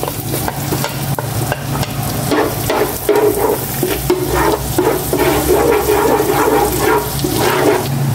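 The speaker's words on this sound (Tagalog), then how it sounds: "Gisa ko na tong bawang." Garlic sautéing in butter in a home kitchen pan, with a steady close sizzle and frying crackle running throughout, plus scattered clinks and scraping from stirring.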